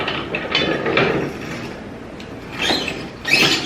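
A hand-cranked French bean cutter slices green beans for canning, giving a loud, close grinding and ratcheting whir in uneven bursts as the beans feed through the blades.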